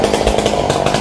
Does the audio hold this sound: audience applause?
no